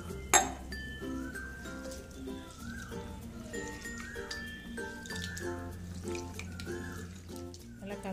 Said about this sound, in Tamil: தண்ணி சேர்த்து நல்லா அலசி எடுத்துடலாம்.